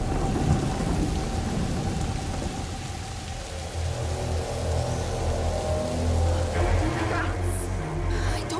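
Thunderstorm in the video game A Plague Tale: Innocence: steady heavy rain pours throughout while deep thunder rumbles and rolls, loud and close, with a brighter crack building near the end.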